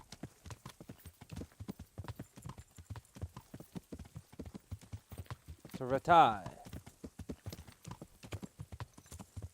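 A horse's hooves clip-clop in steady rhythm in the video game Kingdom Come Deliverance, faint and continuous, with a brief louder whinny midway and a short spoken phrase.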